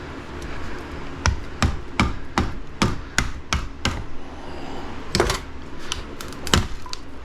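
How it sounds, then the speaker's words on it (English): A hammer strikes a light ballast scrapped from parking lot lights, a series of sharp, separate metallic blows, some in quick pairs, loud and close with nobody talking. "Might have to use a hammer"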